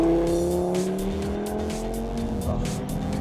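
Video game race car engine roar with a sustained tire squeal as the car drifts through a turn, steady and loud, with gliding pitch lines.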